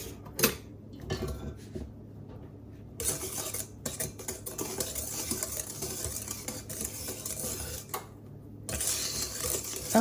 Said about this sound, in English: I like to sift my flour